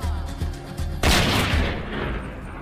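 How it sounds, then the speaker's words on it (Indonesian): Gunfire in a Western-style holdup of a speeding horse-drawn carriage: a few sharp low thuds followed by a loud, sudden blast that rings out and slowly decays. "Tiba-tiba suara tembakan terdengar."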